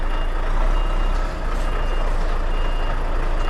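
A truck reverses with a steady, repeating electronic reversing beep over a loud, continuous engine and road rumble, close by and without talk.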